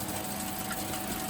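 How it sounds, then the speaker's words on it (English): A DZB-300B packing machine for wooden coffee stirring sticks runs with a steady mechanical whir and rapid rhythmic clatter, close and continuous. "This machine, it is also suitable for wooden coffee stirring stick packing."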